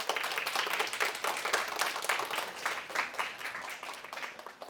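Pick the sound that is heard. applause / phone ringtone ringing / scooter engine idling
applause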